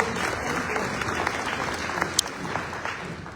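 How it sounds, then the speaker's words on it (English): An audience at a Houston Police Department event breaks into a sustained round of clapping, a dense even patter from a moderate-sized crowd lasting several seconds. "Let's give a round of applause."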